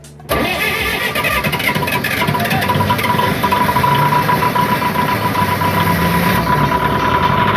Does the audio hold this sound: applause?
no